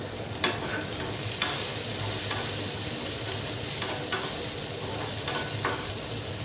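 Garlic cloves and tamarind sizzle steadily in a pan for radish chutney, with a spoon scraping and stirring now and then, soft and close with no talking.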